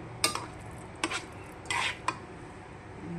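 Chicken, mashed potato and egg being mixed in a bowl, several distinct bursts of utensil scraping and clinking against the bowl with short pauses between them.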